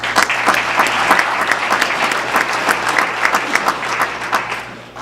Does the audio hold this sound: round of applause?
yes